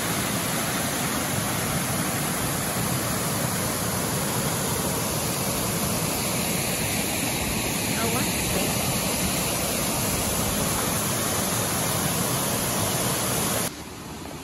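Webster Waterfalls pouring down a cliff with great force: a loud, steady, broadband roar of rushing water that fills the scene without pause, close and unbroken, dropping slightly in level at the very end.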